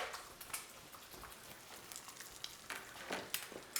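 Egg frying in a pan, a steady soft sizzle with scattered crackling pops, fairly close and moderately quiet, no talking.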